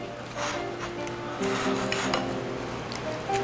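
Kelp noodles, shredded chicken breast and mayonnaise sauce are tossed together in a bowl, giving close, continuous rubbing and scraping with light utensil clinks and no talk.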